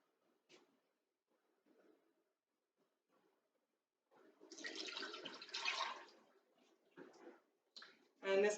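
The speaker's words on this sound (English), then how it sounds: "I'm going to pour the oil back into the pot." Cottonwood-bud oil is poured back into a dedicated pot during salve making, giving a two-second liquid gush followed by short trickles and clinks, with faint voice fragments before it.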